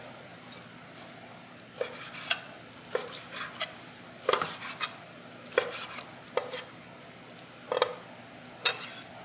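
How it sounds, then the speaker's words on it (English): A knife cutting Charolais beef chuck roast into one-inch cubes on a board, with sharp, irregular chopping knocks spaced through the clip, close and clear with no talking. "And I'm cutting them up, you can see here, into 1 inch by 1 inch cubes."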